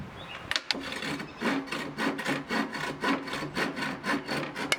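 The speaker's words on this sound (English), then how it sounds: "Get to use the new samurai sword." A new samurai sword is worked back and forth across wood in a steady rhythm of rasping, sawing strokes, about a dozen close, even passes after a couple of sharp knocks at the start.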